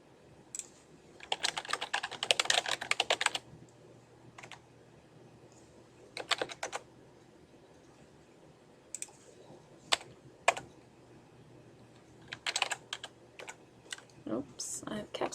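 Keys clatter on a computer keyboard in bursts of fast typing, then isolated taps and short runs separated by pauses, close and fairly quiet, with a person talking at points.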